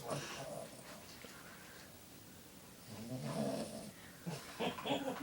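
A Boston Terrier snores softly at close range, a few raspy, rumbling breaths rising and falling over several seconds, with faint talking nearby.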